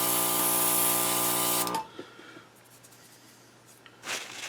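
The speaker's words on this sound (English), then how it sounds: "So I wanted to see what the paint sprayed like" An airbrush sprays paint onto small 1/35 scale model parts for jerry cans, a close, loud steady hiss with a motor hum that cuts off after about two seconds, followed by quiet handling and a short burst.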